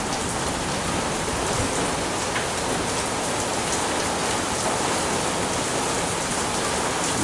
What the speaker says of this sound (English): it's really starting to rain now